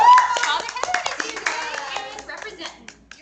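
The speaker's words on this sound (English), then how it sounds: "Just give them a round of applause." A small audience of parents claps together, a burst of hand claps that fades out over a few seconds, with voices, including a child's, mixed in.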